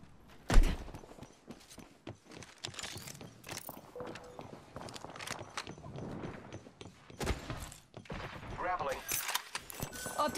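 Apex Legends gunfire comes in scattered shots and short bursts, one sharp loud crack early, mixed with footsteps and in-game voice callouts.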